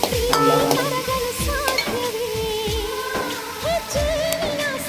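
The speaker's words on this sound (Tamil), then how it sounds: "பச்சை வாசனை போகிற அளவுக்கு இஞ்சி பூண்டு பேஸ்ட்லாம் நல்லா வதங்கணும்." Ginger garlic paste and curry leaves sauté in a pan for pepper chicken fry, with a continuous sizzle under repeated stirring scrapes and clinks, close and moderately loud.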